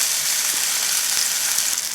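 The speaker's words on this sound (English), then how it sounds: "want to hear that sizzle going." Black bean burgers searing in an oiled pan, giving a steady, close, dense sizzle and crackle throughout with no talking.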